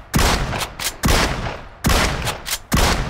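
Shotgun blasts in the video game PUBG, four loud booming shots spaced unevenly, each with a short rumbling tail, with no voices.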